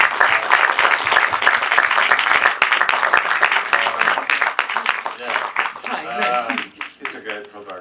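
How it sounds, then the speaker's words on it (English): Audience applause for a young photographer invited on stage, a burst of dense clapping that is loud at first and then thins and fades, with voices and scattered talk mixed in toward the end. "And give him an applause"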